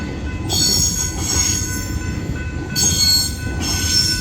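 A passing X'Trapolis 100 train squeals as its wheels grind at the Main Hurstbridge Road level crossing in Diamond Creek, Victoria. Loud high-pitched screeches rise and fall in waves over a steady rumble of rolling rail cars.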